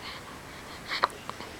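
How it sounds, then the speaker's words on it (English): An 8.5-day-old newborn baby gives a couple of small, soft hiccups, brief breathy catches close by over quiet room background with no talking. "Little hiccups."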